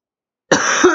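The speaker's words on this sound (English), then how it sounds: "Oh, sorry about the coughing." After half a second of silence, a single harsh, loud cough bursts out close to the microphone and runs straight into a second rough cough, ending abruptly.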